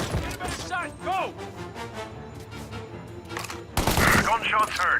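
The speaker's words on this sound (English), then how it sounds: "Gunshots heard." Bursts of rapid gunfire crack through a loud, busy battle mix in the video game Mafia, with shouting voices and a heavy volley near the end.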